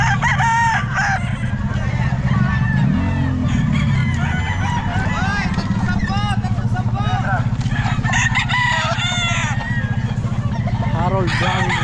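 Several gamecocks crow over one another amid clucking fowl, loud and close, while people talk nearby, at a cockfighting breeders' event in Bocaue.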